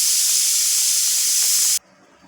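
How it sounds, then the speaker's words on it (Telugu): A pressure cooker on a stove, cooking festival prasadam, releases a loud, steady steam hiss that cuts off abruptly after about two seconds. No one speaks. "విజిల్లు వస్తున్నాయండి. ఇంకో విజిల్ వచ్చాక ఆఫ్ చేసేస్తాను."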